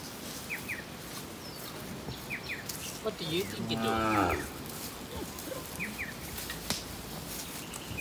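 Cattle low and moo on a farm, with a cow and a half-grown calf among them, one clear drawn-out moo rising mid-clip above a steady outdoor background with faint bird chirps.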